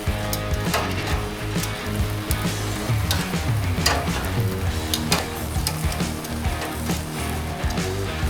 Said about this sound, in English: let's get these cooked outside on the braai